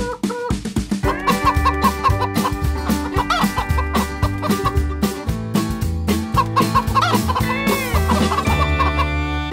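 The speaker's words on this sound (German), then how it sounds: "Und auf der Farm, da gibt's ein Huhn." Cartoon-style chicken clucks sound repeatedly over a bouncy children's farm song melody, a German nursery-rhyme version of Old MacDonald, with the clucking mixed loudly into the busy music throughout.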